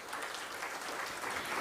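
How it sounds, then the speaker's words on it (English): A brief burst of audience applause welcoming a speaker onto the stage at a livestreamed talk, steady clapping from the crowd, fairly faint and distant throughout. "A big round of applause,"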